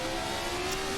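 A 1970s Formula 1 race car engine in the Assetto Corsa racing game, a steady, loud, sustained engine drone with a held tonal pitch through the whole short moment, no voices.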